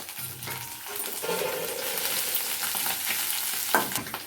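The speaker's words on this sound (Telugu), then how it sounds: "నూనెలో బాగా వేయించుకోవాలి ఈ మసాలాలన్నీ" Spice masala with ginger-garlic paste frying in oil for a curry, an up-close crackling sizzle with a few stirring scrapes and a metallic clink.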